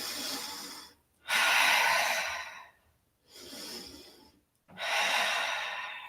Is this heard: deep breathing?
yes